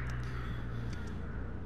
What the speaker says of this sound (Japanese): ここで言うカラスとはアーティストの固有能力のカラスではなくて、フィールドのあの索敵用のカラスのことですね